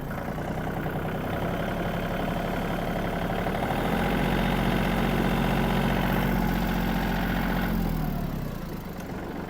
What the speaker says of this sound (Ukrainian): Вивертаємо кермо та даємо трішки газку.